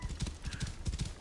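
Horse hooves clip-clop in Assassin's Creed Origins, a quick irregular run of soft low thuds at moderate volume, with a brief snort or whinny at the end.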